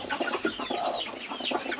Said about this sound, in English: So we have a whole group of broody hens over here. These are all Orpingtons.